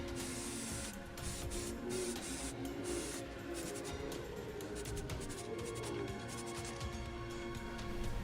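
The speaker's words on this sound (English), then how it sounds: "I'm just going to go in with a normal everyday grey prime from a rattle can" An aerosol can of grey primer hisses in repeated bursts of spraying onto a sculpted bust, close and steady, with short pauses between passes.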